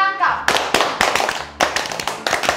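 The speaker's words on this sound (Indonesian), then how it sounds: "Tepuk, korang angkat." A small group at home claps hands in sharp, uneven bursts during a body-drawing guessing challenge, close and loud, with excited voices around the claps.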